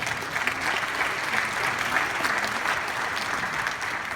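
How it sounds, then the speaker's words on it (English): An audience at a homelessness forum held at Daytona State College applauds, a steady burst of clapping filling the room throughout with no voices over it. "Everybody give them a round of applause."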